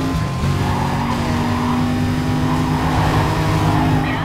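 Nikki's race car in NFS Carbon roars at steady high revs while its tires squeal and skid continuously, loud and close throughout with no break.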